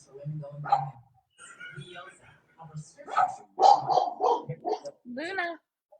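Luna, a dog guarding the door, lets out a series of short barks and yips scattered over several seconds, some clipped and some whiny, fairly close in a quiet indoor room.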